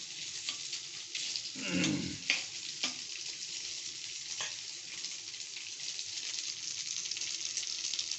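Pork fries in its own rendered fat: a steady, close sizzle runs throughout, with a few stirring scrapes and knocks in the first seconds.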